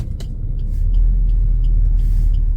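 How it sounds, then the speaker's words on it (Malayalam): A car engine rumbles loud and low from inside the cabin after a downshift into second gear for a slow turn, the drone swelling slightly and holding steady, with faint clicks over it. "ഞാൻ എന്ത് ചെയ്യുന്നു സെക്കൻഡ് ഗിയർ ആക്കുന്നു പതിയെ സെക്കൻഡ് ഗിയർ ആക്കി"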